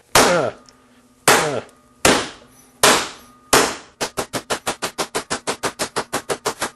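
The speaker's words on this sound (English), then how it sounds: "I'm whacking in the middle." Mallet striking sheet metal laid on a sandbag: five loud, ringing metallic whacks spaced about a second apart, then a quick run of roughly fifteen rapid, evenly timed blows.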